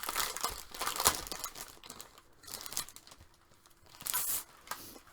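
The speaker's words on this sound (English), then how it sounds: "you're going to hear the packaging, and that's not always pleasant" Plastic packaging crinkles and crackles as it is handled and torn open, with quiet, close, irregular rustling bursts and no talk.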